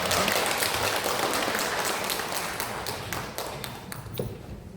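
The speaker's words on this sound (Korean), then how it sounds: "우리 박수로 하나님께 영광 올려드립니다." Church congregation applauding during a Korean worship service after a choir anthem, a dense wash of clapping that gradually thins and fades over several seconds.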